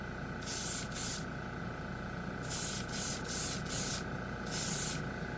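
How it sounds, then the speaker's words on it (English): Airbrush spraying black color shift paint in short, loud hissing bursts, two quick ones, then three, then one longer burst, over a steady low background hum with no talking. "We'll start with the black, the main color. These should be sprayed over and let the magic happen."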